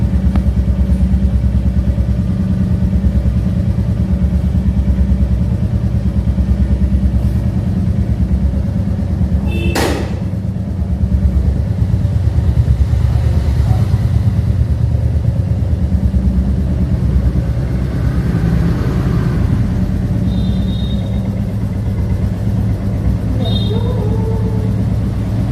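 A motorcycle rides along a road with a continuous, loud engine hum and wind rumble that stays even for the whole stretch, with a few brief clicks and faint voice-like sounds near the end.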